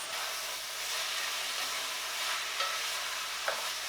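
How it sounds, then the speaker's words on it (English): Chicken pieces with ginger sizzle steadily in a hot pan, a dense continuous frying hiss with a couple of faint stirring clinks. "We are going to cook the chicken until it turns white for now"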